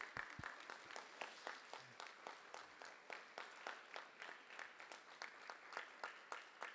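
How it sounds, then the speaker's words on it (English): A school audience applauds parents at a National Honor Society spring induction ceremony, a steady, even patter of many hands clapping, fairly faint and distant, lasting throughout. "give a round of applause to your parents"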